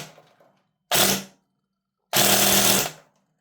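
A Wellpro WE23 airsoft minigun pistol fires rapidly through a chronograph in two loud, close bursts of buzzing, high-rate shots, each lasting under a second, separated by a short pause.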